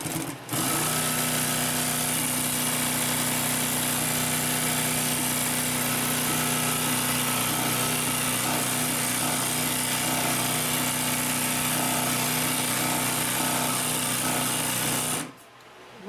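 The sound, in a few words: Consew P1255RB sewing machine sewing upholstery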